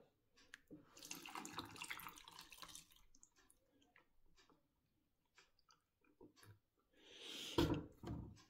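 Milk is poured into a container to make a milkshake, a close, quiet liquid gurgle in two bursts separated by soft clinks and handling sounds, with no speech.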